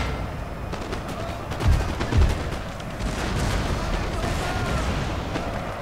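Battlefield gunfire from the video game Napoleon: Total War, with a couple of heavy cannon booms and crackling musket volleys rolling over a dense, noisy combat din.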